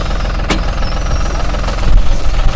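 A John Deere 5075E 75 hp tractor pulls an MB plough with a loud, close, pulsing diesel chug. A sharp knock comes near the start, and the engine load swells toward the end.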